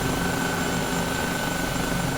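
Helicopter in Microsoft Flight Simulator heard from outside as it fires up, a steady, loud turbine whine and rotor hum with a constant high tone running throughout, no talking.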